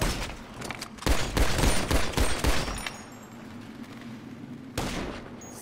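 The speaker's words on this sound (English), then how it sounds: "That was you shooting." Loud automatic gunfire in GTA V, a dense burst of rapid shots for about two seconds, then a quieter lull with a low hum before one more single shot.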